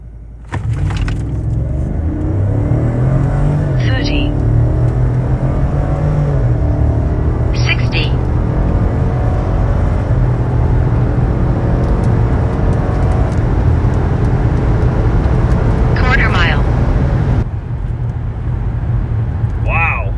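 A Cadillac Escalade in four-wheel drive with traction control off launches hard, its engine climbing in a loud, sustained roar through several gear shifts. The drone stays heavy throughout, with short vocal bursts from inside the cabin.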